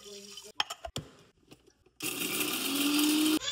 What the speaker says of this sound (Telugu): ఇప్పుడు దీన్ని మిక్సీ పట్టాల.